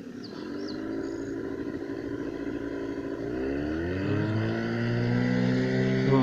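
A motorboat passes nearby at low speed on a fishing trip, its steady engine drone rising and its pitch shifting as it draws closer, with no speech.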